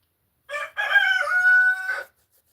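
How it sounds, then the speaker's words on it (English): A rooster crowing inside a workshop, one loud, close crow that starts with a short note and then stretches into a long, drawn-out call in an otherwise quiet room. "I do have a rooster in the shop with me"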